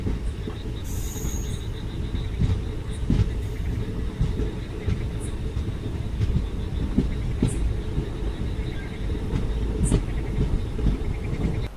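Tirupati express passenger train rolling steadily on rails, a continuous rumbling clatter with rhythmic wheel knocks and faint high squeals, heard from on board at around 110 km/h.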